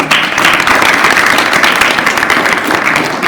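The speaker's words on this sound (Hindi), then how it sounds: "ताली बजाइए।" An audience at an International Women's Day celebration applauds loudly and steadily, a dense continuous clapping from many hands that holds at the same level throughout with faint crowd murmur.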